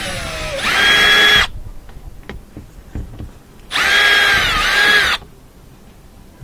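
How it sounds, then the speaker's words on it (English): A power drill backs out two Phillips head screws from the third brake light on a 2004 GMC Yukon: two loud, whining bursts of about a second each, separated by a short pause, with no talk. "looks like just got to remove these two Phillips head screws"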